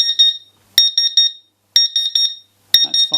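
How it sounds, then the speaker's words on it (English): Laser cutter water chiller alarm beeping loudly and close in repeated bursts of rapid high-pitched pulses separated by short silences, with a faint click or handling noise near the end. "We've got an alarm condition."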